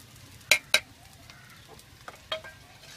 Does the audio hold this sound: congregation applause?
no